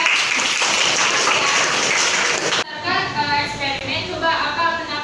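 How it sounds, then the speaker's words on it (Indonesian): A classroom of students breaks into loud, dense applause for a few seconds, which cuts off abruptly, after which talking and murmuring voices continue. "Beri aplaus dong buat teman-teman."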